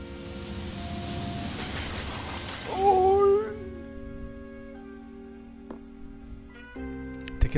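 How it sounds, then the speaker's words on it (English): In The Sexy Brutale, a singer's powerful voice shatters delicate glass: a bright, noisy crash builds over the first seconds with a sung tone rising through it, then ringing musical tones and game ambience carry on. "Tequila's mask allows you to shatter delicate glass with her voice."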